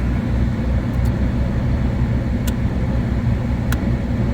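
A 2008 Subaru Impreza engine idles close by with a steady, even rumble and the blower running, broken only by a few faint ticks.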